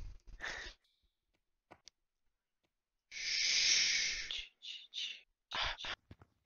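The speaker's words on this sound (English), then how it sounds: "is panting heavily" A person pants heavily while playing Gorilla Tag, with loud breathy huffs in short bursts and one long drawn-out exhale, separated by quiet gaps.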